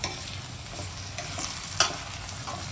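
Prawn masala sizzles in a pan while a spoon stirs it, with steady frying hiss and a few sharp scraping knocks against the pan. No one speaks.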